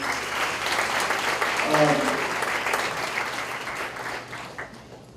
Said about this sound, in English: A round of applause for this wonderful man.